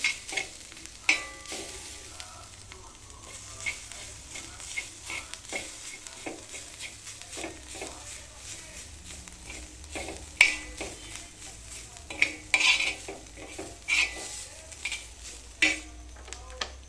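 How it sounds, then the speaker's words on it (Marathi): A Maharashtrian thecha of crushed peanuts, green chilies, garlic, cumin and salt sautéed in oil in a pan: a soft steady sizzle with occasional scrapes and clinks of the spoon, close up, and no voices. "तेलामध्ये हा जो आपण ठेचा केला आहे शेंगदाणे आणि मिरची, लसूण आणि जिरे आणि मीठ, आता हे थोडंसं तेलात परतून घेऊ आपण"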